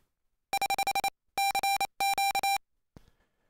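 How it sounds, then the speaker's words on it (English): An unfiltered Morse code CW side tone fed into a laptop microphone jack beeps as a clean steady tone in three bursts of keyed dits and dahs, loud and alone, followed by a faint click. "We have a side tone coming in the microphone jack of this laptop here."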